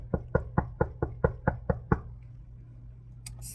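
Eight evenly spaced knocks on a stranger's front door at night, sharp and close, then a pause with faint background hum.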